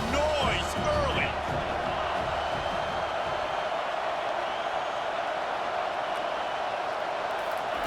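A stadium crowd in a college football video game, Tennessee Volunteers against Florida State Seminoles, sends up a loud, steady roar that fills the whole stretch with no breaks.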